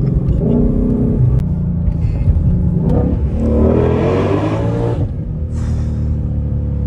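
A Ford Mustang Shelby GT500 V8 rumbles while driving, then revs hard in two rising surges that peak and fall away, loud and close inside the car.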